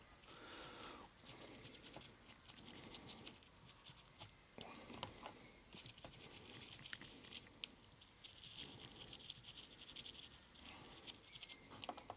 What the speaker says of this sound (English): I'm just going to scrub them and clean them. I think I should do that in the sink